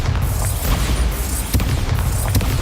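Bombarda spell explosions in the video game Hogwarts Legacy: loud, booming blasts with crackling debris and a sharp burst about halfway through, set in dense game ambience.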